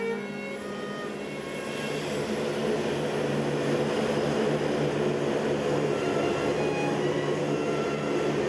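A propeller aircraft idles on the apron at Delhi's Palam airport, a steady droning engine hum with tonal whine that swells slightly and holds, loud and continuous without speech.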